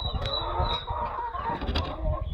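Chickens on a poultry farm cluck and chirp continuously at close range, with overlapping calls from several birds.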